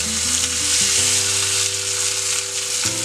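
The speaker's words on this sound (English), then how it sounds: "you can see the fat coming down and giving it a nice sizzle and pop to our steaks here" Steady, loud sizzling and frying of steaks in a hot pan, continuous crackle and pop with a low hum underneath, no talking.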